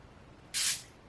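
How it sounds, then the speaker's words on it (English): One quick hiss of a room spray being pumped, brief and close, against near silence. "I'm gonna give it a couple more sprays just in my room."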